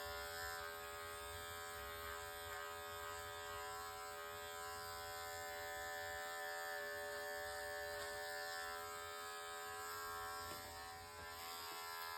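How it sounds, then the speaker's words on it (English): Electric hair clipper held at an angle and pivoted while cutting hair up toward the back of the head, giving a steady close-up buzz with a constant motor tone throughout, no talking. "we're gonna continue to tap that line out. Keeping our clipper at an angle"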